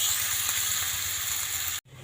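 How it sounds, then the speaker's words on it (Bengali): Sliced onions with turmeric and salt sizzling steadily in a hot pan for a fish curry, a dense continuous hiss close up that cuts off abruptly near the end. "পেঁয়াজটা একটু ভাজা ভাজা করে নেব"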